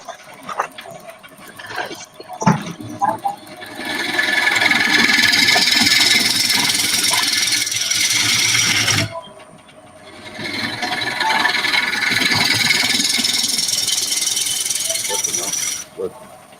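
A wood lathe turns timber and throws off shavings, a loud steady grinding drone running for several seconds, then stopping briefly before starting again, with scattered knocks at the start.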